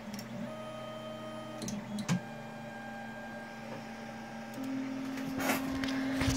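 A Tronxy X3 3D printer homing its axes, with steady stepper-motor whines changing pitch as each axis moves, a few clicks, and a louder higher whine near the end, all fairly quiet with no talk.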